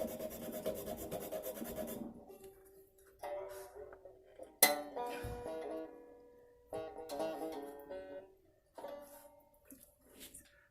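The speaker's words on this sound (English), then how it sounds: "This I use a 16 thousandths nut file." A 16-thousandths nut file rasps into a banjo nut in several separate strokes with quiet pauses between, close and fairly soft, with faint tonal ringing from the instrument.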